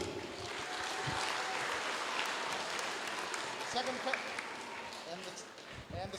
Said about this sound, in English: please show your appreciation for the talent that we have here in Tuvalu, Miss Titi Homasi.